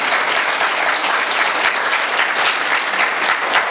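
An audience at a conversation event with a police officer claps steadily, a dense, even wash of applause that stays loud and continuous for several seconds.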